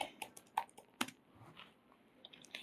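Someone types a search into a web browser on a computer keyboard, producing soft, irregular key clicks with a few sharper taps, close and quiet with no voices.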